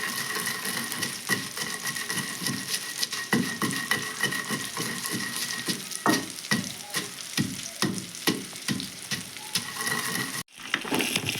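Onions and other chutney ingredients fry in a pan, giving a steady, close crackling sizzle broken by frequent scraping stir strokes that run on without pause. No one speaks.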